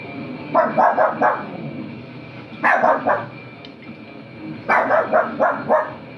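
A dog barks in three quick bursts of several barks each, fairly close, with short pauses between, and a faint steady hum underneath.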